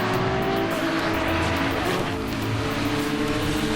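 Porsche GT3 Cup race cars at speed on the Brands Hatch circuit, a dense continuous engine roar with faint tyre squeal throughout, loud and steady without any talk.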